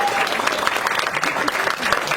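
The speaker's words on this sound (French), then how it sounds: "Veuillez les applaudir bien fort." Festival audience applauding the jury at the Carnot film festival, a dense, steady clatter of many hands clapping throughout, close and loud with no pause.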